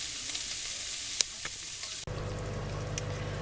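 Sausage browns in a pan with a steady, close sizzle and a few sharp pops; the tone shifts abruptly partway through as the frying continues.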